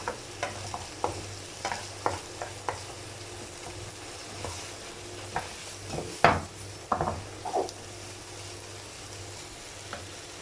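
Chickpeas roasting in a pan with green chilies and coriander are stirred with a utensil, giving repeated scraping strokes over a steady faint sizzle, with one louder clatter midway.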